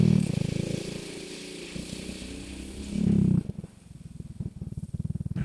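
A motorcycle climbing a steep cemented road in the highlands of northern La Union, its engine droning and straining, then sputtering in uneven low pulses as it struggles to find first gear.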